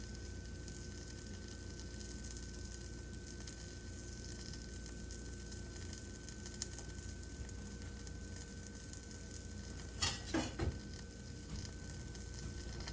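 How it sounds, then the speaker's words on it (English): A grilled cheese and meat sandwich cooks in a pan with a faint, steady sizzle, broken near the end by a few brief scraping or shuffling sounds. "take your sandwich there and put it in your pan. And you're going to keep an eye on it and let it cook until it browns up"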